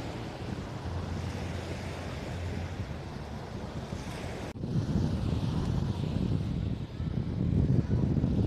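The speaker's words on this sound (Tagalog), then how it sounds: "Medyo maalon, may ulap eh." Rough sea surf washes onto the beach at a resort under cloudy skies. A steady, close roar of waves blends with gusty wind buffeting the microphone, and it swells louder in the second half.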